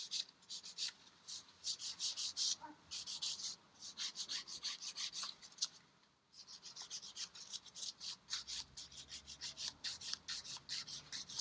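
Combi buffer filing a fingernail in quick, rhythmic rasping strokes, soft, close and continuous, with one brief pause partway through.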